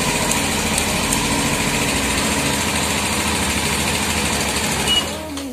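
A motorcycle engine fitted with a remote alarm system idles loudly and evenly close by, a steady buzzing rumble that cuts off abruptly near the end.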